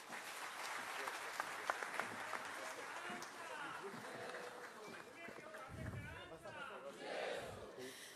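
Audience applause after a speech at an event marking 100 years of Bahishkrit Hitkarini, a dense crowd roar of clapping that swells near the end, with cheering voices mixed in throughout.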